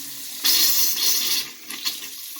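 Water gushes from a bathroom tap to purge air from the plumbing, a loud broadband rush starting abruptly, then easing and sputtering with a few bursts toward the end.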